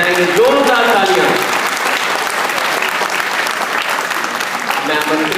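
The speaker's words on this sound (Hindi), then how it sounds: "एक बार जोरदार तालियां आप सब बजाएंगे, जोरदार तालियां।" Loud, dense applause from a large crowd at a public event in Janakpuri, Delhi, for India's foreign minister, sustained and even throughout, with a voice briefly audible at the start.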